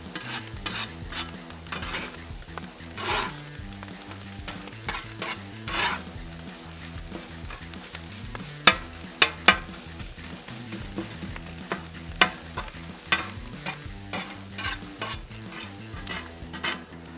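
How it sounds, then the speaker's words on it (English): Onions and burnt ends stirred and scraped on a hot griddle for Philly cheesesteaks, a steady sizzle with repeated clacks of a metal spatula, close and fairly loud, with no talking. "Start mixing in our onions with our burn ends"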